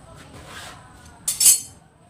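Scissors cutting through bedsheet fabric, a short crisp snipping burst near the end after a quiet rustling stretch.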